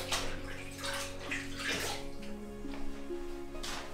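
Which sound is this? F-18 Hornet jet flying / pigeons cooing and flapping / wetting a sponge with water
wetting a sponge with water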